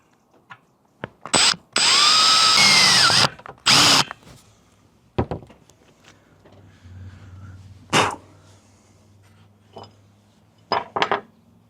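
A power drill bores through the metal roof of a Ford Transit Custom van, with a few short bursts and then one sustained whining run, loud and close, followed by clicks and handling knocks.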